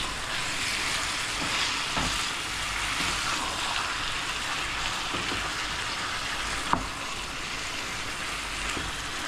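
Garlic and ginger fry in a pan for achari chicken, giving a steady, close hissing sizzle that continues without a break, with a few faint stirring scrapes and a single brief knock. No one speaks.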